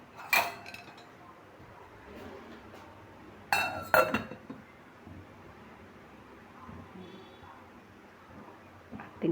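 A lid set onto a cooking pot to reheat food at home, giving a couple of sharp metallic and glassy clinks a few seconds apart over quiet room tone, with a voice speaking softly in between.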